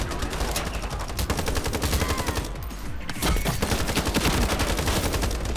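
Rapid automatic gunfire fills a Call of Duty match, sustained bursts of loud shots with a brief pause near the middle, dense and continuous with no voices.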